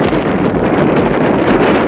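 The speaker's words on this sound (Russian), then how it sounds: "Ветер очень сильный." Strong wind at a lakeside buffeting the microphone, a loud continuous roaring rumble that never lets up.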